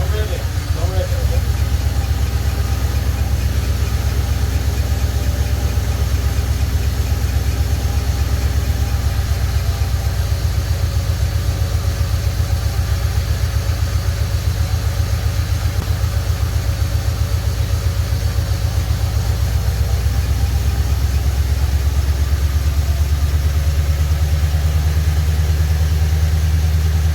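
Supercharged engine of a Lexus RC F under rebuild starts and settles into a loud, steady idle for nearly half a minute, a deep continuous drone with people talking over it.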